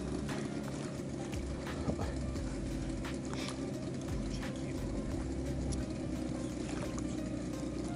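A motorboat engine warms up at idle on the Kama river before a fishing trip, a steady low rumble with faint clatter running evenly throughout.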